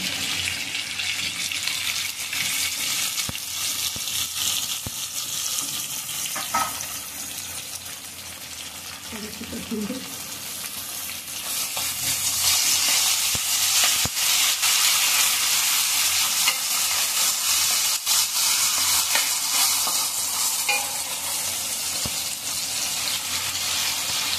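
Chopped tomatoes fry in a pan for kaju masala, a cashew curry, with a continuous close sizzle and the scrape of a spoon stirring them through the oil.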